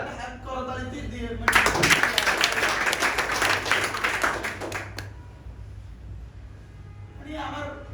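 Audience applause bursts out at a career talk show, a few seconds of dense clapping that stops abruptly, with people talking before and after.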